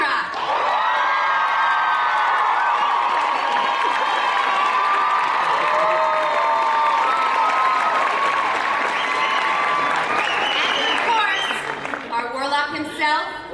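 Comic-Con audience applauds and cheers for Katie McGrath, Morgana of Merlin: loud, sustained clapping with whoops from a large crowd, thinning near the end as voices come through.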